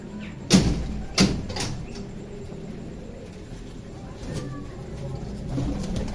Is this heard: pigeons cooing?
yes